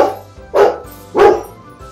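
Dog barking at its owner indoors, two loud, close barks about half a second apart over quiet background.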